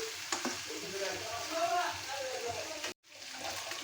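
Pieces of goat head meat, already partly cooked, sizzle and fry steadily in a pan, with potatoes about to be added; the close, continuous crackle breaks off briefly near the end.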